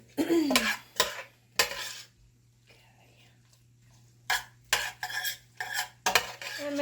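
A spoon stirs a carrot cake jam mixture in a pot, giving repeated scraping, clinking bursts that come and go with short pauses, close and fairly loud.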